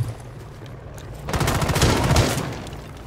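Gunfire in the video game Rainbow Six, with a quiet lead-in followed by a dense burst of rapid automatic shots that swells and fades over about two seconds.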